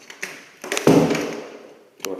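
Interior door in a house under inspection, a few light taps followed by a solid thud as it shuts, then a fading rattle and one more small knock, close by, with a voice speaking faintly over it.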